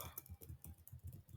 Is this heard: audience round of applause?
no